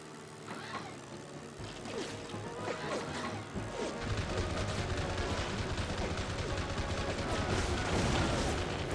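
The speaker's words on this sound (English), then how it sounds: "got a good rocket hit right there" A rocket strikes its target in the WWII air-combat game Heroes of the Pacific on PS2, during the Battle of Iwo Jima: loud, dense crashing explosions and rattling gunfire over a constant roar, building toward the end.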